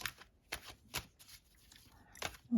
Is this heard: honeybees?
no